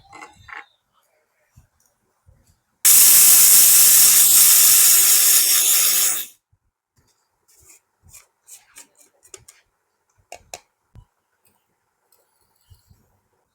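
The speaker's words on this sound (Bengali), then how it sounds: "ব্লেন্ডারের মধ্যে দিচ্ছি দিয়ে এটাকে ব্লেন্ড করে নিব" A blender grinds roasted fenugreek seeds in one loud, harsh, whirring burst of about three and a half seconds. Quiet rustles, taps and handling noises come before and after it, close at hand.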